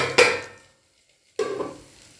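A tadka of ginger, coconut and raisins for moong dal sizzles in a pan in two brief bursts, the first fading quickly into silence before the second starts.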